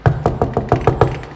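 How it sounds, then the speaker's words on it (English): Knocking on a door: seven sharp raps in a quick, fairly even rhythm, close and loud, with nothing else heard. "This is how we knock."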